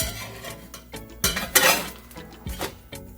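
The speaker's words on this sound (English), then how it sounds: "Let's see if we can get our spatula underneath and take this off." A spatula clatters and scrapes against a pan while lifting a high-protein inverted quesadilla off it, giving a few sharp metallic scrapes and clinks in irregular bursts at close range.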